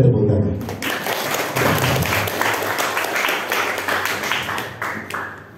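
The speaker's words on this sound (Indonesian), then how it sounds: "Boleh tepuk tangan." A room of vocational school students in Garut, Indonesia, breaks into dense, sustained applause that stays loud and steady throughout, with voices mixed in beneath the clapping.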